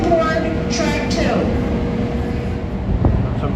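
A DM30AC 502 locomotive runs in electric mode on track 2 of a station. Its steady electric hum and rail rumble fill the air, with brief squeals and a clunk near the end.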